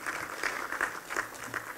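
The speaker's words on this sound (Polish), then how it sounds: "te oklaski są uzasadnione" Applause at a ceremonial Kościerzyna city council session, faint and steady, many hands clapping at a distance with slight rhythmic swells throughout.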